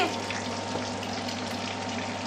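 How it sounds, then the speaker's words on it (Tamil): Marinated fish fries in hot oil with a constant, even sizzle and crackle that continues without a break and with no talk. "ஊறின மீனை நல்லா எண்ணெய் சூடு பண்ணிவிட்டு பொறிக்க ஆரம்பிச்சிட்டேன்"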